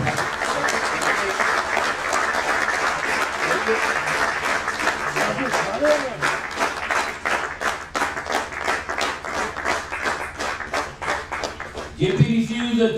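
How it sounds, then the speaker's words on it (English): An audience at a Builders Association of India event in Pune claps in sustained, dense applause, with a voice breaking in near the end. "big round of applause to JP Shroff"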